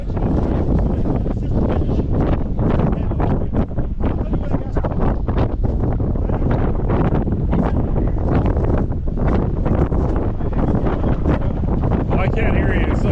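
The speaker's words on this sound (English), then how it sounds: "I can't hear you. It's so windy." Strong wind in Echo Canyon, Death Valley, buffets the microphone in a loud, continuous roar with gusty rustling throughout, voices faintly mixed in beneath.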